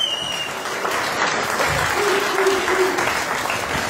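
Audience applause at a live Evergreen event in Baia Mare, a dense, steady wash of clapping from a large crowd that holds at a loud, even level throughout, with a faint voice buried beneath.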